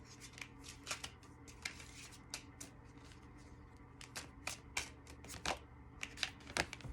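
Tarot cards are shuffled and drawn in a quiet room, giving a series of soft, crisp riffles and snaps at irregular intervals. The sounds grow denser toward the end.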